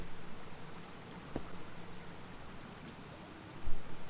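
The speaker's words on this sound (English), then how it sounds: "Yeah, waterfall." Waterfall in the fantasy video game Baldur's Gate, a steady broadband rushing hiss of falling water, moderately quiet and continuous with a brief splashy swell near the end, no talking.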